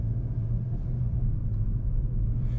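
A 2021 Volkswagen GTI Mark 7.5 pulls away with a low, steady engine rumble heard from inside the cabin, its deep drone even and unbroken for a few seconds with no voices.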